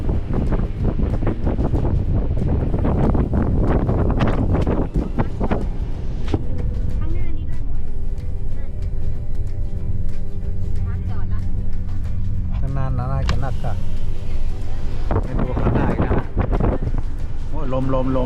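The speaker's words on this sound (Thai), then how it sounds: "เสียงลมพัด" Cold wind blows across the microphone outdoors in an old town in the U.S. state of Georgia, a loud, continuous buffeting rush heard under steady talking throughout.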